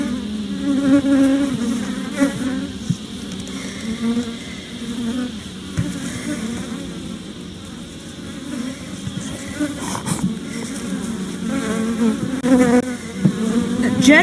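Honey bees buzzing loudly and close during a hive inspection, a dense continuous drone with individual bees rising and falling as they fly near, over faint handling noises.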